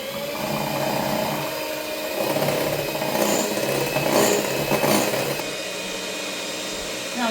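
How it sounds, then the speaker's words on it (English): An electric whisk beats eggs and golden caster sugar in a bowl for brownies, making a continuous, fairly loud motor whirr that swells slightly midway and runs steadily throughout. "And now I whisk them together."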